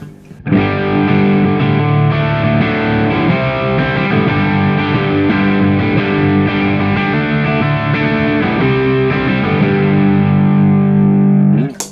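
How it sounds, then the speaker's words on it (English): Electric guitar driven through a Nobels ODR Mini overdrive pedal with no bass cut, chords ringing loud and thick with heavy low end and sustained, continuous strumming alone for about eleven seconds before fading. "Then the Odr Mini, which does not have the bass cut, so you will hear that here."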